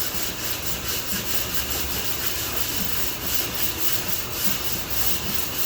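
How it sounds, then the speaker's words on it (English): Continuous rhythmic hand block-sanding of a dented body panel on a 1991 Jeep Cherokee Limited, a steady scratchy rubbing back and forth, close and fairly loud. "I'm actually feeling the body work and blocking and sanding it at the same time."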